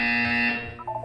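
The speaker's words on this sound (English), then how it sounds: "You will hear a buzzer." A loud electronic buzzer from the video game Portal 2 sounds once, a harsh sustained tone that fades into a brief trailing warble.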